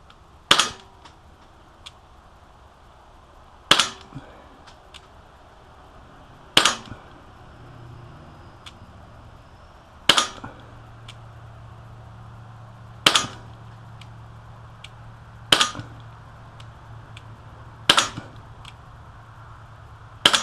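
A Umarex Walther P99 CO2 blowback airsoft pistol fires about nine sharp, snappy shots at a steady pace of roughly one every two to three seconds, over a faint hum in a quiet room.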